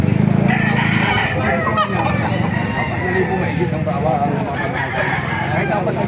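Roosters crow and chickens, including White Kelso gamefowl, cluck nearby at a busy market in Baliuag, with people talking over the birds throughout.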